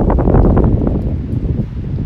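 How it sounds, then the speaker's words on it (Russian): Gusty wind buffets the microphone with a steady low roar while a person talks over it. "ветрище такой дурацкий"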